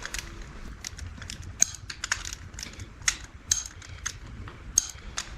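A ratchet wrench tightens camshaft gear bolts on a junkyard 5.3 LS engine to 26 foot-pounds. Close, irregular rapid clicking comes in bursts throughout, with a few sharper ticks standing out.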